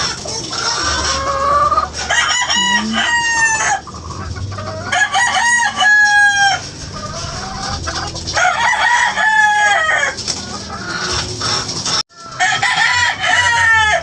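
Several chickens cluck and roosters crow repeatedly, close and loud, their calls overlapping in an agitated, noisy chorus with brief gaps.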